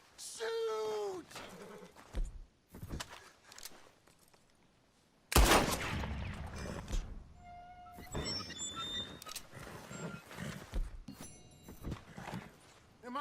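Several gunshots ring out in Red Dead Redemption 2, sharp cracks and a short burst among game sounds and a shouting voice, with quieter ambient stretches between the shots.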